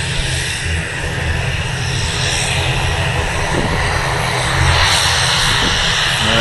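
Loganair airliner engine roaring loudly and steadily nearby, a dense broadband drone that swells slightly toward the end without a break.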